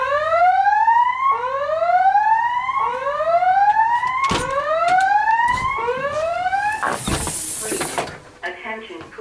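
A home fire alarm system sounds its evacuation signal, a loud, close, repeating whoop tone that sweeps upward about seven times in a steady rhythm, then ends with a sharp hissing burst before quieting.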